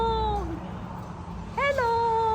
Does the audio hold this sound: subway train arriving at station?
no